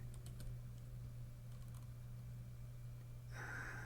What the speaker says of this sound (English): The lovely keyboard.